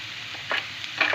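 Carrots and onions frying in oil with a steady hiss, broken by a couple of brief scraping stirs of a utensil in the pan.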